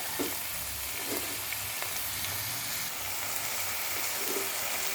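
Vegetables, including drumstick, potato and eggplant, fry in a pan with turmeric and salt, making a dense, continuous sizzle and hiss that stays close and even, with faint stirring underneath and no talking.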